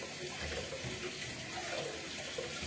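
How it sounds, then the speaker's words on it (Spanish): Water runs steadily into a cooking pot to cool a hot dish while making Russian salad, a continuous faint rushing pour with no talk over it. "Déjame le echo un poquito más agua para que se le quite un poquito lo caliente"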